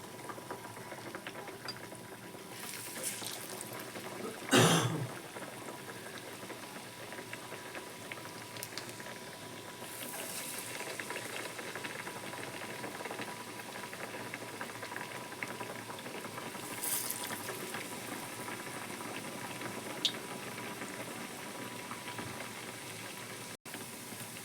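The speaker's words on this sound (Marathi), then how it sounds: "आता आपण असे सोडून घेतो तेलामध्ये" Dal vadas fry in hot oil, giving a steady, soft bubbling sizzle throughout with occasional brief spatters and pops. There is no talking.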